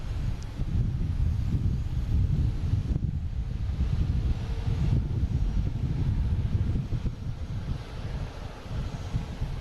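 A Boeing 737-800 airliner on flight 1554 at Boston Logan rumbles with a deep, sustained low engine roar, loud and steady with wind buffeting the microphone, no speech over it.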